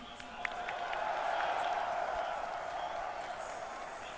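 A stadium crowd at a CS:GO grand final in Stockholm gives a broad, moderately distant roar of cheering and applause that swells and then holds steady, with a faint voice briefly over it.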